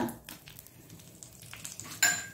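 Mustard seeds sizzling and crackling in about a spoonful of hot coconut oil: a faint, quiet hiss with small pops close by, then a sharp metallic clink near the end.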